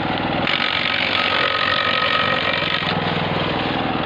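A branch chipper's small engine runs close and loud, a steady rattling mechanical drone that rises slightly in revs partway through, with no talk over it.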